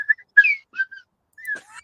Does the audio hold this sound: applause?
no